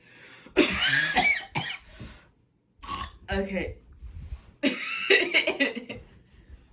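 A close, deliberate-sounding cough bursts out amid casual speech, followed by more talking.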